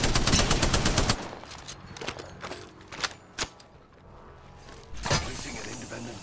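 Automatic gunfire from a multiplayer shooter video game, with a dense burst of rapid shots up front, then scattered single cracks and another loud burst near the end, under a player's talk.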